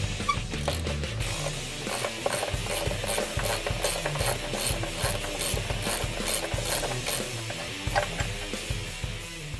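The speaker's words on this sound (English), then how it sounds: "Now we're going to remove the bolt that goes from the mount to the bracket." Ratchet wrench clicking steadily in quick rhythmic bursts while loosening the bolt between the rear motor mount and bracket on a Ford Focus ST, close and fairly loud with no talking.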